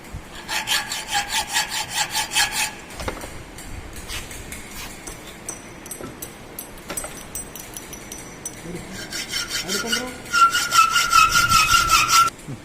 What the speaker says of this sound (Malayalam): ഇവിടുന്ന് ഇവിടേക്ക് ആക്സോ കട്ട് ചെയ്യുന്നു